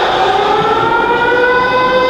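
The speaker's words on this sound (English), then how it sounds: "Love the siren." A loud, sustained civil-defense siren from The Mist trailer wails steadily at close range, its tone holding evenly across the whole stretch with no voices over it.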